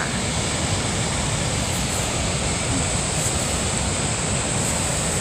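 Water pours steadily at the Verdal waterfall in cold Norwegian air, a dense, unbroken roar with faint wind buffeting, close and loud throughout.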